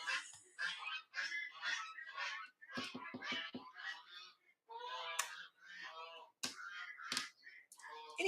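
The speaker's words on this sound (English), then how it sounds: "No, that's the goose." A goose honking in a series of short, sharp calls, close and fairly loud, overlapping with a person talking nearby.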